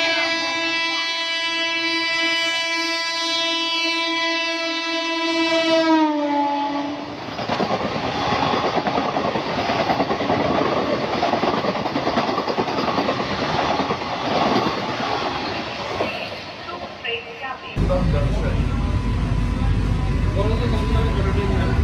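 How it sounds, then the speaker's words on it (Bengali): A new AC local train arrives at Bidhannagar station, opening with a long, loud horn blast, then rising rumble and clattering wheels as carriages roll past close by, with people talking on the platform. "একদম ধুলো উড়িয়ে আসছে এসি লোকাল ট্রেন।"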